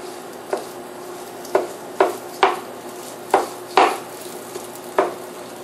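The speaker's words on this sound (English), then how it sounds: "I'm going to start by putting my sausage in the skillet and start breaking it up." Sausage broken up in a skillet with a utensil, about seven distinct scraping taps against the pan at an uneven pace over a low, quiet sizzle, with no voices.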